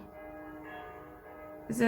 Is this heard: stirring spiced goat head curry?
no